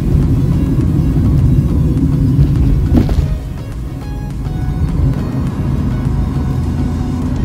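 Road traffic in the Pali market area, a steady rumble of engines close by that swells, briefly dips, then carries on, with a passing vehicle rising and fading in the middle.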